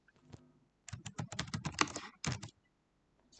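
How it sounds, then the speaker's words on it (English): Rapid keystrokes clatter on a computer keyboard up close, a brisk burst of clicks after a single early tap, with a short pause and a few more presses before it falls quiet. "I'm just typing with one and"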